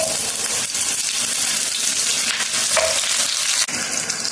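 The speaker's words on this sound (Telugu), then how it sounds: "ఆనియన్స్ మంచిగా ఫ్రై అవ్వాలి." Onions fry in a pan of oil with mustard, cumin and fenugreek seeds for a fish fry, a loud, even sizzle with occasional soft stirring scrapes, close and unbroken.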